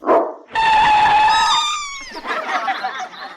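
Bajrangi, a dangerous cartoon dog, lets out a short bark, then a long high whining howl that slides down, followed by rough, throaty barking and growling, loud and close.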